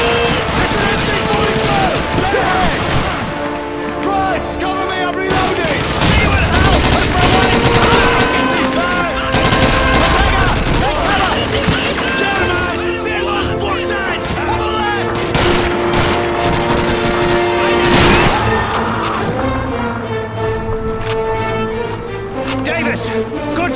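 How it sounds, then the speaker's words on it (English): Gunfire fills a Call of Duty 2 battle as covering fire during the Diversionary Raid mission, with dense, loud bursts of rifle and machine-gun shots and distant booms that continue throughout, while shouted voices break in over the shooting. "Let's give Sergeant Davis and his boys some covering fire!"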